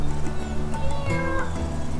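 A cat meows repeatedly at close range, loud and steady over about two seconds, in a home setting while a dog is being photographed and praised nearby.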